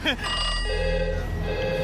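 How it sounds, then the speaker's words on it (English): A telephone rings with a sustained electronic tone, close and fairly loud, during playthrough of the video game On Rusty Trails. "Phone's ringing too."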